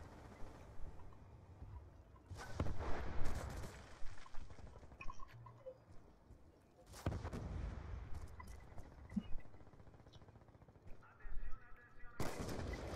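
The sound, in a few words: gunfire in the video game Call of Duty: Black Ops 2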